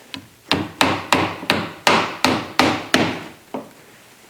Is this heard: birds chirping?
no